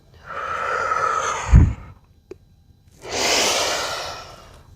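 Slow, deliberate breaths during a yoga flow: a long airy exhale ending in a soft puff, a pause with a faint click, then another drawn-out breath, close and unaccompanied by speech.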